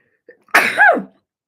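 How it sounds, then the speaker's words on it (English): A single close, sharp sneeze with a quick intake of breath before it, alone in silence. "I'm going to sneeze."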